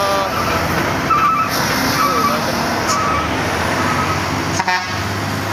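A Fuso intercooler truck labors up a steep hill road, its engine a steady, loud drone close by with brief horn toots and other traffic mixed in.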